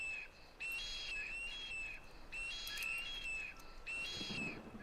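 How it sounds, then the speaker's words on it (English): Bird calls in the video game Skyrim, a loud repeated whistling chirp in several bursts over a steady ambient background. "That is one noisy bird."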